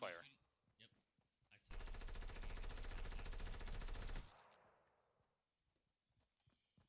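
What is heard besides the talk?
gunfire in a video game (Fortnite)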